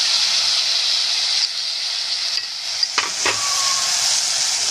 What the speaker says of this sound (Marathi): तर आता आपण कडधान्य टाकून घेऊया.